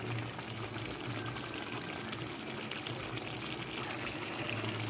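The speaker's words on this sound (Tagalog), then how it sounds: "maglagay na natin ng suka" Vinegar pours into a pot of adobo sa gata, a steady close splashing and liquid rush that runs without pause, with no talk.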